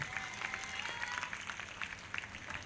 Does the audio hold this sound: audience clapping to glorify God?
yes